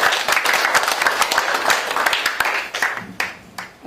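Audience at a Korean forum founders' meeting applauds with dense, steady clapping that carries on for several seconds before thinning out into a few scattered claps near the end.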